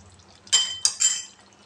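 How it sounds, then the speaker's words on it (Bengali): A spoonful of rose water poured into a pan of Bengali chicken rezala, a brief liquid splash and light clink lasting under a second, close and clear against a quiet background. "আর 1 চামচ গোলাপ জল দিলাম।"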